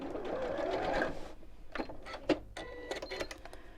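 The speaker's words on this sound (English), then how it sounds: "I'm going to sew the ribbons right sides together just to the top of the pocket on the quilted side" A sewing machine stitches ribbons onto quilted fabric for a scissor keeper, a close mechanical whirr in a sustained run, then short stop-start bursts of stitching.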